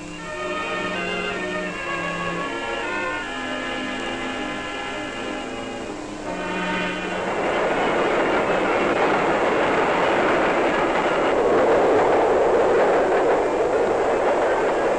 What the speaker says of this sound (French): Un train survient sur l'autre voie, un coup de trompe et l'équipe se gare comme précédemment